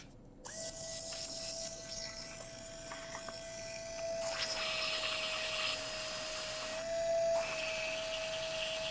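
Modified pedicure wand sanding, a high thin motor whine that holds steady for several seconds, with brief grinding surges as the tool presses against the piece being shaped, fairly quiet and close.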